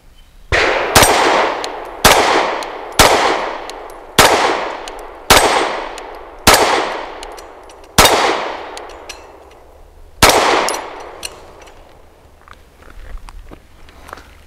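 Eight sharp pistol shots from a BUL Armory EDC firing Browning 115 grain rounds outdoors, loud and close, spaced about a second apart with a brief pause before the last, each ringing out with a short decaying echo.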